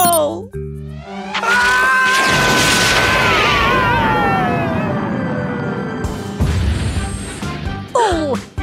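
A cartoon rocket screams upward with a falling whistle, then bursts into a loud crashing explosion and rumble, while animated voices shout and exclaim around it.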